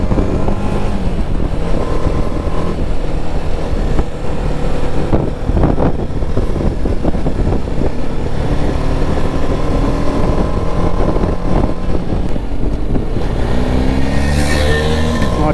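Motorbike riding off-road on a foggy day, with a loud, continuous engine drone and revs under heavy wind buffeting, close and unbroken throughout, with no talk.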